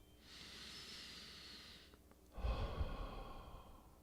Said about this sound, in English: Breathing in and out to the count of 1.